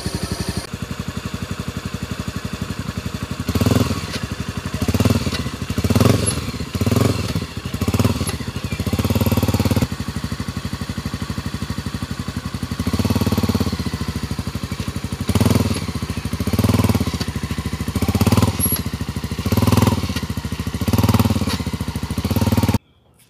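Motorcycle engine idling steadily close by during a clutch demonstration, its loud running punctuated by repeated rhythmic revs and thumps before cutting off at the end.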